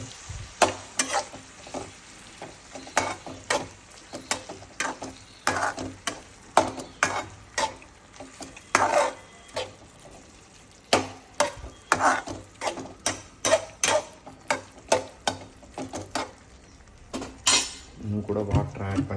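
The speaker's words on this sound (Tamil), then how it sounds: "ஸோ நல்லா கிண்டி விட்டுக்கணும் நல்லா கிளறி விட்டு" A spoon stirs gravy in a cooking pan, making repeated scraping and clinking strokes with a soft sizzle beneath, close and fairly loud, and a voice talks now and then over it.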